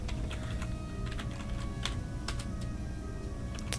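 Rapid typing on a computer keyboard during a Pokémon Let's Go Eevee shiny-hunting stream, with steady irregular clicks and keystrokes running throughout over a low background hum.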